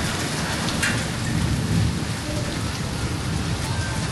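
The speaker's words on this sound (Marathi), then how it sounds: "बर्फ पडतोय आणि त्याच्यासोबत पाऊस पण" Heavy rain mixed with large hailstones pounding down outdoors near a jungle safari area, a dense, loud, continuous roar of impacts with no pauses.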